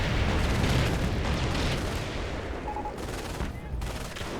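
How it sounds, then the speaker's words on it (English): Artillery barrage in the strategy game Company of Heroes, a dense rumble of shell impacts and rattling gunfire, loud at first and thinning slightly, with a voice talking over it. "Artillery comes down, wipes out one of the packs."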